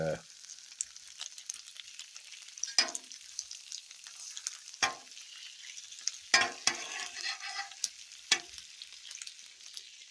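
Garlic and cheddar bratwursts sizzle on a Blackstone griddle with a quiet, steady hiss, broken by a few sharp pops and scrapes.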